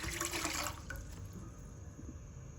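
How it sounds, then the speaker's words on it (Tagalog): Water poured into a cooking pot for sinigang na bangus, a close rushing splash that runs for under a second, then trails off into a quieter trickling wash. "Butang kita tubig."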